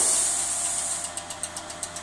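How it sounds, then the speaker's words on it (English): A brand new Bosch vacuum pump runs on an inline thermoformer, starting as a loud steady hiss that gives way to a regular train of sharp mechanical clicks, close and continuous with no talking. "Vacuum pump."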